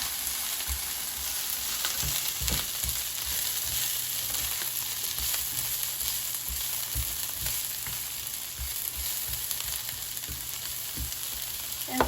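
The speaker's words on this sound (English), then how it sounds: "So now the oil is sizzling, so I'm going to reduce the heat." Chopped leeks sizzle steadily in hot oil in a pan over medium-high heat, a continuous broadband hiss broken by soft irregular knocks of stirring, close and fairly loud with no voices.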